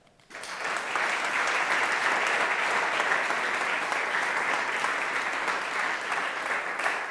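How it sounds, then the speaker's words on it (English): Sustained, loud audience applause at an architecture awards ceremony in Venice, starting abruptly and holding as a thick, even roar of many hands for several seconds without speech. "truly they deserve more than an applause, but let's start with that"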